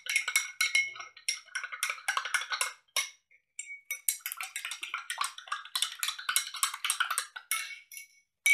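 Detergent powder stirred into water, repeated quick clinks and scrapes of a spoon against a container in bursts with brief pauses, close and fairly crisp.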